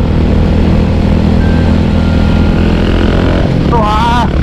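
A Yamaha SR400 single-cylinder motorcycle cruising on an expressway, its engine and exhaust a steady loud drone with wind rush throughout, recorded close from the rider's position.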